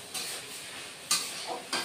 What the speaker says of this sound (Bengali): এবার আরেকটু ভেজে নিব